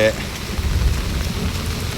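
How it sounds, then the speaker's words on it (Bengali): Heavy rain falling outdoors during a big storm, a dense steady wash of water noise with low rumbling underneath, continuous and fairly loud throughout. "এবছরের সবচেয়ে বড় বৃষ্টি হয়ে গেল আজকে, এখনো হচ্ছে।"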